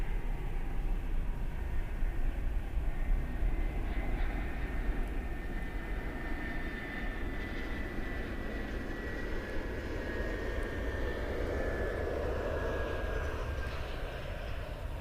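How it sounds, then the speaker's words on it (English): A Lufthansa CityLine airliner arriving at Munich Airport produces a steady, broad engine roar with a faint whining tone that slowly falls in pitch, continuous and moderately distant. "We have one coming in. It's coming through the clouds right now. It's another Lufthansa city."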